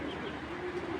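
Pigeons coo softly and close by in a low, rolling murmur lasting about a second, with no talk over it.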